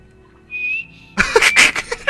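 A short rising whistle to call a horse in the video game Skyrim, one clear tone lasting under a second, followed by a loud burst of clattering game sound, hooves or movement.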